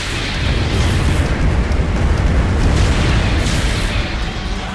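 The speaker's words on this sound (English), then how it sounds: "our support suit's getting a little happy with the rockets right there" Rocket explosions from a support mobile suit in Gundam: Battle Operation, a dense, continuous rumbling barrage of booms that stays loud and steady throughout.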